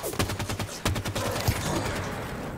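Rapid automatic assault rifle fire in the video game Halo 5: Guardians, loud bursts of closely spaced shots with short pauses between volleys, alone with no talking.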